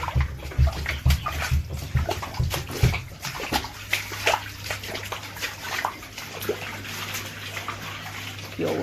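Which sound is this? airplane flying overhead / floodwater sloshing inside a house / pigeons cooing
floodwater sloshing inside a house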